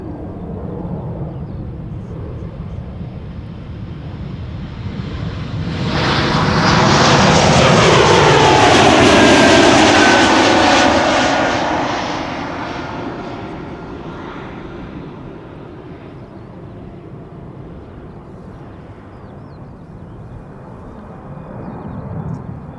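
A heavy jet airliner departs from Schiphol's center runway, the engine roar rising from a distant rumble to a loud sweeping peak as it passes, then fading back into faint background noise.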